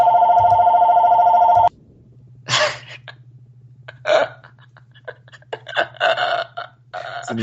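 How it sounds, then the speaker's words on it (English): A telephone rings loudly for nearly two seconds in a rapid electronic trill, then cuts off, followed by laughter and scattered voices over a low steady hum. "I told you that phone was gonna be loud as fuck if it rang."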